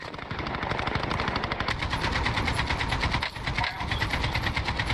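Rapid automatic AK rifle fire from a video game, a dense, loud rattle of shots running almost continuously with one brief pause near the end.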